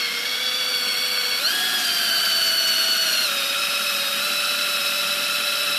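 A spinning camshaft is sanded with 1200-grit wet and dry sandpaper, giving a loud, steady motor whine with a rich stack of harmonics that jumps up in pitch briefly and then settles, continuous throughout.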